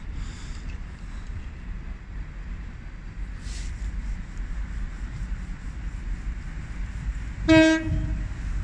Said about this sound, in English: the next train to depart is going to be the late running Great Western Railway service to Cheltenham Spa